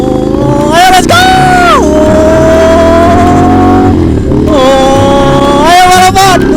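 Ducati Monster motorcycle engine revving hard and close, loud rising and falling throttle blips with a sustained high whine, a second engine droning beneath, with brief talk mixed in.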